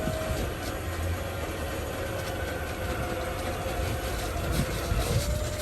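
A dumpster rental truck rolling in neutral makes a steady, low rumble with faint creaks and rattles, moderately close and fairly even throughout.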